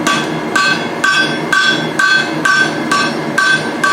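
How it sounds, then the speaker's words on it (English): A blacksmith's hammer strikes hot steel on an anvil while forging a pair of tongs, ringing blows landing in a steady, evenly spaced rhythm, loud and close with no talking. "Hammer that down to get your bit separated."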